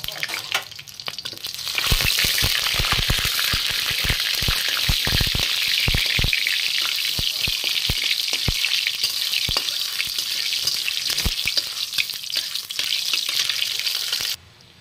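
Whole garam masala spices, dried red chili and bay leaf sizzle loudly in hot oil as a tempering for ghugni, a steady frying hiss broken by frequent sharp crackles and pops, close and continuous, with no voice over it.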